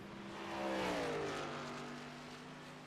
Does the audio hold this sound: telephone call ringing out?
no